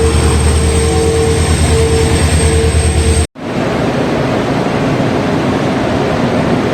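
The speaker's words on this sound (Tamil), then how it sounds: "சென்னை எக்மோர்லேருந்து மதுரை வரக்கூடிய பாண்டியன் எக்ஸ்பிரஸை எம்டி ரேகை வந்து புல் பண்ணிட்டு போகுதுங்க இந்த ட்ரெயினை." Pandian Express from Chennai Egmore to Madurai, hauled by a diesel locomotive, rolls past on rails with a loud steady rumble and engine drone that breaks off abruptly midway, then continues as a rougher, noisy wheel clatter.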